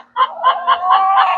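An Australorp hen clucks close by in a backyard flock, a quick run of four or five soft rhythmic clucks rising and falling over a faint steady hum.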